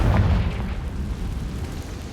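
The Confringo fire spell from the video game Hogwarts Legacy lands as a loud, close, booming blast, a heavy burst that rumbles and fades over about two seconds.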